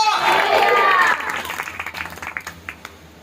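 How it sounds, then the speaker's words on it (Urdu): Church congregation bursts into loud applause that builds and then breaks up into scattered, fading claps over about three seconds. "زوردار تالیاں خدا کے روح کے لیے"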